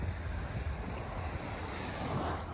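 Sea waves breaking on a clear-water Cornish beach near Sennen, a steady broadband wash of surf mixed with gusty wind noise on the microphone, loud and continuous.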